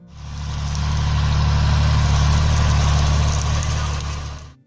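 A John Deere 4020 tractor from the 1960s runs steadily, its engine a loud, continuous low rumble that swells in and holds throughout with no talking.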